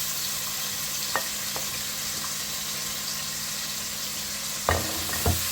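Baby shark pieces and onions fry and sizzle in a pan while being stirred, a steady hiss broken by a few sharp scraping clatters of the spoon against the pan near the end.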